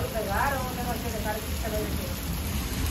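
Heavy rain pours steadily over a village during seasonal flooding, a dense close hiss of drops on surfaces with voices talking over it.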